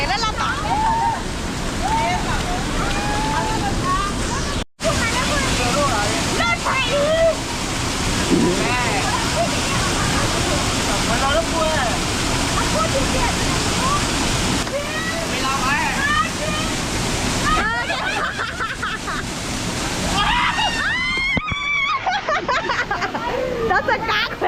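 Waterfall at Mok Fa with people playing in the water: steady broadband rush of falling water throughout, with voices and shouts mixed under and over it, and a brief dropout near the start.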